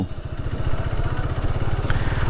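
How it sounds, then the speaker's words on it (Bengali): A motorcycle engine during a ride, a loud, close, rapid pulsing thrum with steady rhythm and wind roar, no talk over it. "আজকে আমি একটু বাইক জোরেই চালাবো চিন্তা ভাবনা করছি"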